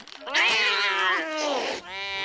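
A cartoon cat lets out a long, loud, drawn-out meow that wavers in pitch, followed by a second shorter meow, close up with no talk over it.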